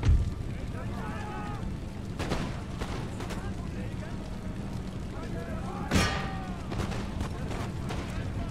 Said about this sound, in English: That cannon just canister the breach.